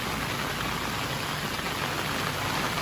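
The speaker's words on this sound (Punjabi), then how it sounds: "ਹਜੇ ਪਏ ਰਿਹਾ ਫੁੱਲ ਮੀਂਹ" Steady, dense rain hiss fills the whole stretch, a constant broadband wash with no pauses or voices.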